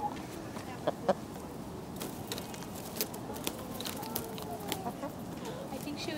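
Chickens and chicks in a backyard among ferns, giving faint scattered clucks and short peeps over a quiet, steady background, with soft distant activity and no clear talking.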